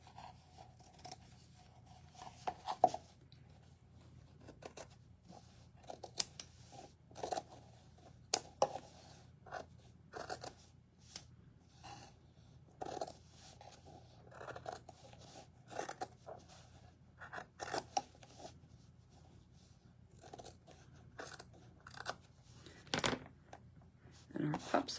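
Paper is trimmed with scissors for primitive stacked boxes, making faint, repeated snips and rasping rubs scattered throughout, with steady low hum underneath.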